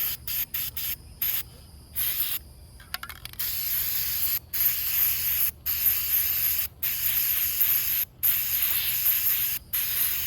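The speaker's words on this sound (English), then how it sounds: "definitely want to spray it thoroughly" Bursts of cleaner spray hiss out repeatedly onto a foam air filter, loud and close, each broken by brief silent pauses between trigger pulls.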